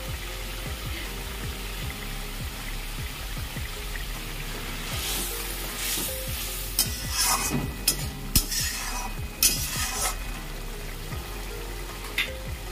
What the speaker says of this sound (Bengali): একটু নেড়ে দিলাম।